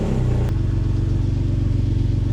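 A Porsche engine with a coolant leak fires up and settles into a steady, loud idle right after a brief start-up burst, the low rumble continuing unbroken to the end.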